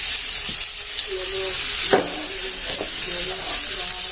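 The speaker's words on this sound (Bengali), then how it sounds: "এই আলুর সঙ্গে সোয়াবিনটা একটু ভেজে নেব" Soybean chunks frying with potato in a pan, a constant loud sizzle with occasional scraping stirs and a sharp clink near the middle.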